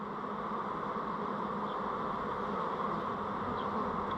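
Honey bees stream out of an opened hive during a varroa check, a dense continuous buzzing drone held steady throughout, close and without talk.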